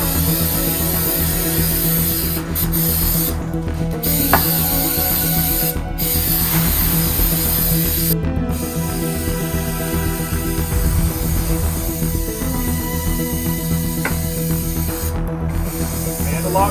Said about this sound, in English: So now it's time for the first coat of Flex Seal Clear.